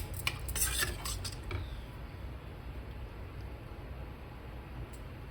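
Mutton curry with tender tamarind leaves being stirred in a pot after salt goes in, a few close metal spoon scrapes and clinks up front, then a quiet low simmering hum with no voices.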